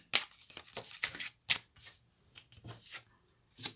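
Lenormand cards shuffled by hand in close, quiet bursts of riffling and flicking, with short pauses between the bursts and no talking.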